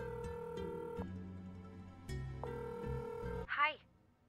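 A telephone rings in the Nancy Drew mystery game Labyrinth of Lies, sounding as two steady electronic rings that sit under continuous game music, followed by a brief warbling tone near the end.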